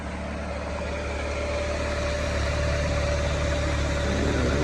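A car engine idling steadily with the hood open, in a home garage setting during an A/C check; a continuous close, even rumble with a faint whine and no talk.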